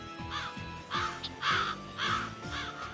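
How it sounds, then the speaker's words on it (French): Crows caw repeatedly in an animated adventure series set in a search for the golden cities. About five harsh, rising-falling calls sound in a steady rhythm over a continuous music score. "Je n'aime pas ça, des oiseaux noirs, oiseaux de mauvais augure"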